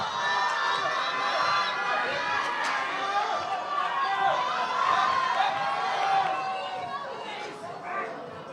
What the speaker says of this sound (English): The crowd is going crazy right now.